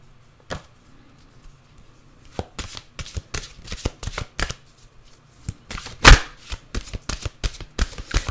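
A deck of mantra cards is shuffled close by in quick irregular bursts of riffling and slapping, louder toward the end, with no voices.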